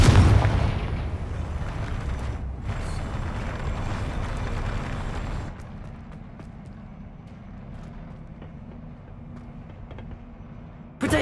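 Confringo blasting spell in Hogwarts Legacy on PS5: a loud explosive blast at the start with rumbling debris that holds for several seconds, then drops to a quieter hum before a fresh hit at the end.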